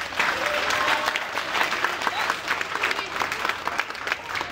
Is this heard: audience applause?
yes